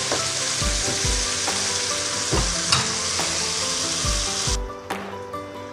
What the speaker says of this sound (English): Hayaan lang natin kumulo guys.